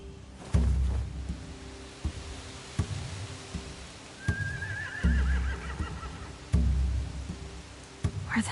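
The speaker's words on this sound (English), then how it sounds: "They have horses." Horses whinny in The Walking Dead video game, one rising neigh standing out among repeated low thumps and faint ambient noise at a moderate distance.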